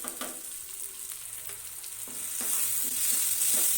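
Garam masala and turmeric powder frying in oil for a radish curry, a steady sizzle under a few stirring scrapes that swells louder and brighter in the last second and a half, with no talking.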